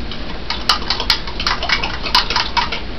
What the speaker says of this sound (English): I always use a fork when activating my yeast